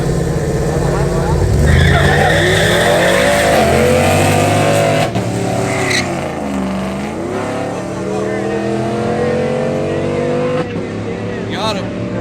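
Diesel trucks launch in a drag race with loud roaring engines that rise in pitch under acceleration, a sharp shift about midway, and a crowd talking over the noise throughout.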